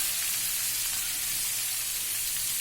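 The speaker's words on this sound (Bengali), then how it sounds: "এই তো তেল দিয়ে রেখেছি, মাছগুলো দিয়ে দিচ্ছি।" Tilapia fish pieces frying in hot oil in a home kitchen, a loud, continuous, close sizzle and hiss with no pauses and no voices.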